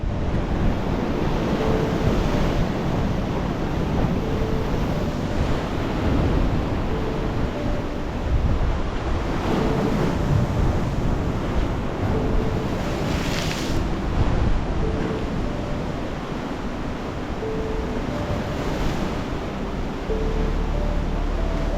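Ocean swell and waves wash continuously against a sandstone rock coastline between Dee Why and Curl Curl in a high swell, a loud, unbroken surf roar with rolling surges and no talking.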